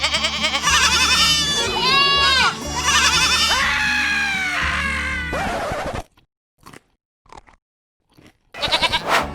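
Goats at Grant's Farm, including Nigerian Dwarf and South African Boer breeds, bleat loudly and close by in a run of overlapping wavering cries. A few short sounds follow a pause, then another burst near the end.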